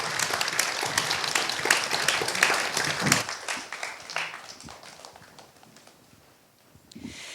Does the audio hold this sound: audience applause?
yes